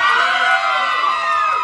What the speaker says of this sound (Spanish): Un aplauso para la chica de rojo.